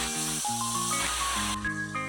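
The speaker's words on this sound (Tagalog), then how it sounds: "ipiprito muna natin ang ating tilapia" Tilapia fish fries in hot oil in a pan, a steady close sizzling hiss that continues without pause, with faint tonal background sounds and no talking.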